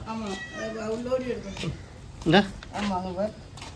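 A kitten, one of several at a village school, gives a few short rising-and-falling meows, clearest around the middle, under and between the nearby voices of people talking.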